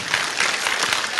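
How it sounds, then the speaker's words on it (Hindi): Audience applause in a hall during a Hindi motivational business talk, a steady dense wash of clapping hands throughout with no voices on top. "अच्छा आप लोग ताली तो बजा रहे हैं"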